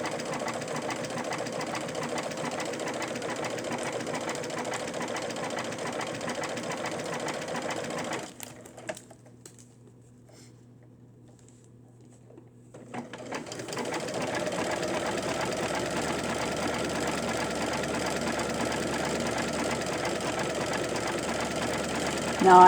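A sewing machine with a ballpoint needle stitches doll fabric in a rapid, even mechanical chatter, pausing for a few seconds mid-way before running again at the same steady pace.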